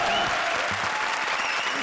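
A studio audience at a comedy show bursts into loud, dense applause that fills the moment without pause, with a faint voice underneath.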